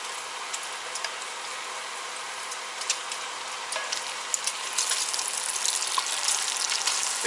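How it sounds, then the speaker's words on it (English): One large chopped onion frying in rendered bacon fat in a pan inside a camper, a steady close sizzle and crackle with scattered pops, growing slightly louder toward the end, no voices. "I'm going to sweat these onions down for a little bit"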